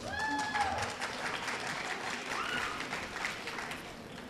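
Audience at a junior high school academic awards ceremony applauding all-A distinguished students, sustained clapping from a sizable indoor crowd with a few whoops and voices mixed in.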